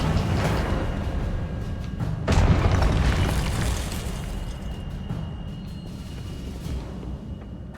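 A Confringo fire spell blasting in the Hogwarts Legacy video game, a deep booming explosion that swells sharply and then rumbles away into a long fading roar.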